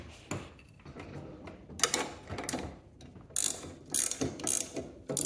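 A half-inch wrench turning the nut on a garage door pulley, giving a run of sharp metallic ratcheting clicks in uneven bursts, close and fairly loud, with no talking.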